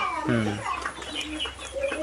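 Black Australorp chickens on a farm give a short, close clucking call, followed by fainter scattered bird sounds over a low background hum.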